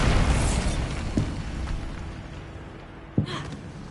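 Bombarda spell blasts in Hogwarts Legacy, heard as a soft boom near the start and a sharper burst near the end over a steady rumbling game backdrop.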